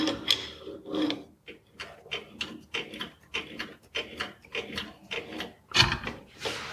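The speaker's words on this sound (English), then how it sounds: "that's already started by hand, so I can just do the rest with the wrench" A wrench turns a hand-started fitting, giving a run of short scraping, ratcheting clicks and rubs in an irregular rhythm, close up and fairly quiet with no talking.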